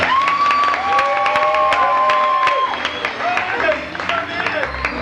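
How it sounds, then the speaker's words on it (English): A pub-quiz crowd at a Balderdash Cup event breaks into clapping and whooping cheers, with rising whistles over steady applause that swells, dips and picks up again, with voices shouting through it. "whenever I do this, a huge round of applause"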